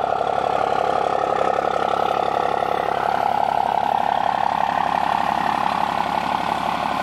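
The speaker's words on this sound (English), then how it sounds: "Got a nice exhaust note." A truck idles with a steady, rumbling exhaust note, a continuous mid-heavy engine drone that holds even and close for the whole stretch with no talk over it.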